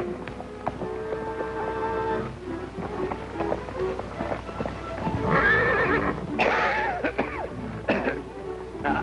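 A horse whinnies loudly over steady hoofbeats and outdoor rumble in a 1937 western film, with a second shrill neigh following, no talk.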